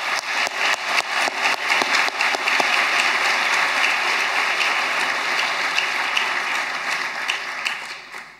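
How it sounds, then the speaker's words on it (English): An audience applauds a speaker at a talk, close and loud dense clapping that builds quickly, holds steady for several seconds, then tapers off at the end. "So I think Marianne deserves a real round of applause for that."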